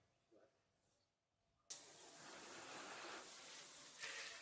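A steady, broadband hiss of a hose spraying cleaner on a moldy pool cage starts abruptly and continues without pause, loud and close, after a quiet moment with faint voices.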